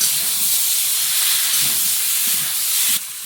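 Spices hitting hot oil in a pan while cooking, a loud, continuous close hiss that drops off abruptly near the end.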